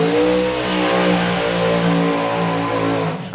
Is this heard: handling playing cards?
no